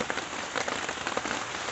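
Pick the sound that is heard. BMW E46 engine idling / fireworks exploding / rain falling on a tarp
rain falling on a tarp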